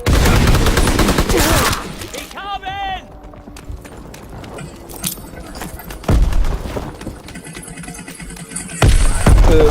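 Gunfire in a WW2 video game rattles in bursts of rapid shots, with loud volleys at the start and end and quieter shooting in between, while a player talks over it.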